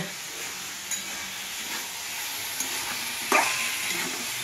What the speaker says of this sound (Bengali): পাঁচ মিশালি তরকারিটা মোটামুটি ভাজা হয়ে গেছে